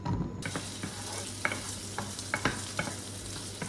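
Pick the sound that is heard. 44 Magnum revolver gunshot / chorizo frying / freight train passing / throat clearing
chorizo frying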